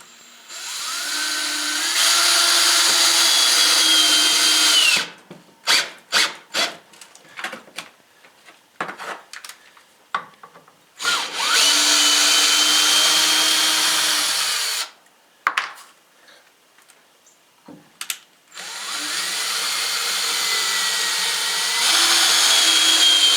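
A power tool drives 3-inch screws into a wooden chicken coop in three long, loud whirring runs, with clattering handling noises and short pauses in between.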